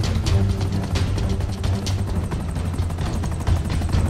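Helicopter in GTA 5 Online, a continuous loud rotor roar with rapid rhythmic chopping, steady and close throughout, with no talking.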